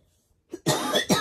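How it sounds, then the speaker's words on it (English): A person coughs close to the mic, starting with a short muffled hack, then a loud, harsh cough and a final forceful burst after a brief pause. "I'm about to go into a coughing spell"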